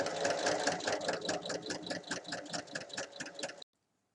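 A sewing machine topstitching fabric for a multi-pocket bag, its needle chattering in fast, even close-up strokes for about three and a half seconds before stopping abruptly into silence.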